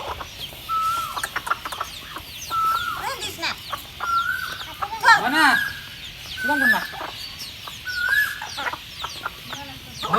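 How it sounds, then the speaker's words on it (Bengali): Roosters cluck and call repeatedly at a market, with sharp rising squawks and clucks scattered across a busy, noisy background and occasional voices. "দেখো মোরগ ওই যে"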